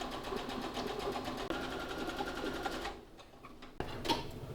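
A sewing machine stitches long fabric strips, running in a rapid close mechanical patter that pauses briefly, then resumes for a few short bursts.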